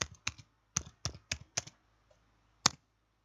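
Typing on a laptop keyboard, a handful of crisp close key clicks in a quick uneven run followed by a pause and one final louder tap, in an otherwise quiet room.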